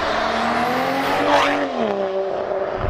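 A BMW G21 M340i with a full catted Valvetronic Fi exhaust revs loudly up and back down, its tone climbing and falling in a close, sustained engine roar.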